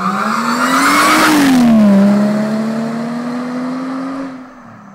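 A supercharged car engine revs up and settles, its steady low drone carrying a prominent high supercharger whine that rises, dips and holds, loud and close with no talking.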